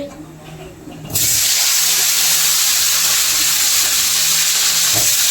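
Vegetables, including broad beans, fry in a pan, a loud dense sizzle that bursts in suddenly after a quieter opening with a low hum, then holds steady to the end.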